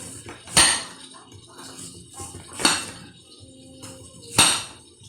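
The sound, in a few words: knife cutting onion into round rings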